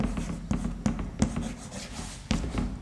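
Chalk or marker tapping and scraping on a board as a maths teacher writes decimal numbers, with a few sharp knocks spaced across the stretch and a steady low room hum underneath.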